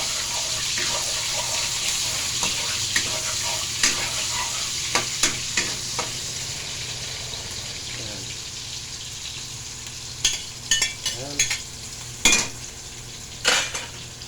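Garlic and onion sauté in a hot pan with steady frying sizzle, broken by repeated sharp utensil scrapes and clinks of stirring, louder toward the end.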